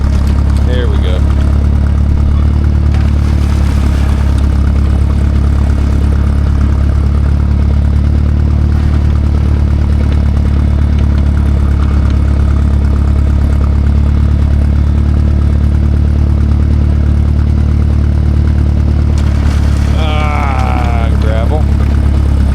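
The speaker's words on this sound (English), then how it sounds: "Oh boy, heavy snow. And the tractor's not spinning." Tractor engine running in heavy snow on icy, packed-down gravel, a loud, close, steady low drone with a clattering edge that holds unchanged throughout, with a brief high chirp near the end.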